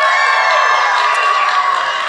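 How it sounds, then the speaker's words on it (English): A live podcast audience in a theater claps and cheers together in a dense, continuous wash of applause that stays loud and steady throughout. "when they're applauding"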